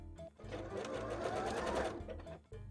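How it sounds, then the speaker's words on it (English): Sewing machine stitching a bralette, a short close burst of rapid mechanical whirring that starts and stops within a couple of seconds. "I'm gonna sew that together while I've got it here."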